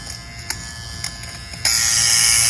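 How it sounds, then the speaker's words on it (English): Electric fabric shaver hums steadily with a few light clicks, then its buzz grows louder and brighter as it runs across couch fabric, removing pills. "You can kind of hear it getting the little pills off."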